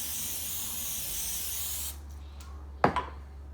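Cooking oil sprayed over the bottom of a Power Air Fryer Pro tray, a steady close hiss lasting a couple of seconds, then a sharp clack and a quieter knock.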